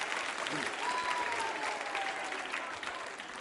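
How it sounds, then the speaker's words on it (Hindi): Applause from the audience at a tourism-themed quiz show at a women's vocational training institute: a continuous, moderately distant wash of clapping from many hands that stays steady, with a faint tone drifting through. "तालियां जोरों से बजाइए एक बार"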